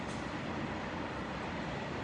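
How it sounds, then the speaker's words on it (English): A train passes near a house beside a railway track, giving a steady, continuous rumbling roar throughout. "Oh, that's a train."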